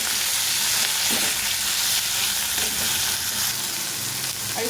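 Tomatoes with garlic, ginger, salt and turmeric fry in a pan, giving a steady, close, loud sizzle that runs unbroken throughout with no voices.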